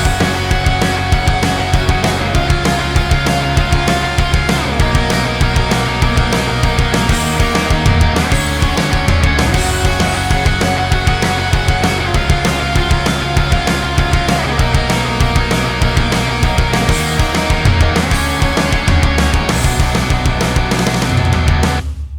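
A guitar plays a chord progression doubled by an octave harmony line on a separate track, built around major 7th voicings up the neck; dense, steady and loud, with no talking.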